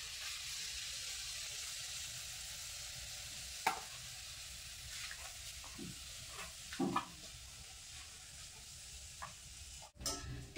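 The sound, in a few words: luchi frying in oil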